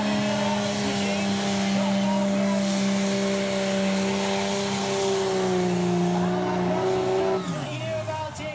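A common rail diesel Pro Stock pulling tractor roars under load down the track, its loud, steady engine note holding strong before dropping away near the end, with an announcer talking over it.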